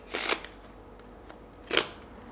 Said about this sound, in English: today I'm going to show you how to pull off a Riffle Shuffle